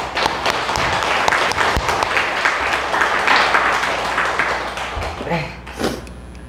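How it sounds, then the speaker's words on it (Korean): A congregation at a Won Buddhist temple applauds together in a steady, dense wash of clapping that holds at even loudness, then thins and fades toward the end with a few scattered claps. "너무나 장하고 너무나 멋져서 다시 한번 박수를 보냅니다."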